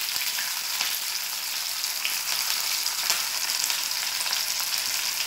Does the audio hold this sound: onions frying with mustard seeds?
yes